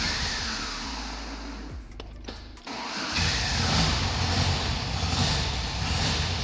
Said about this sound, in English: Got to give it a little gas, been sitting in here.